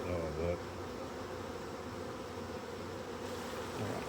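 Honey bees drone around an open apiary hive on a hot, humid day, a continuous, even buzz close by, with a voice heard faintly at the start.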